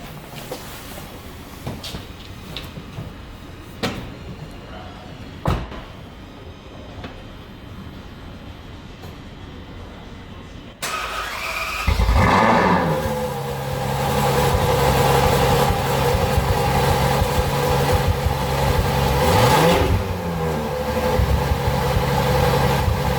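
A Ferrari F12 starts up partway through with a sudden loud burst, then settles into a steady, powerful idle with rises in engine note, heard close and alone after a quieter stretch of faint clicks and background noise.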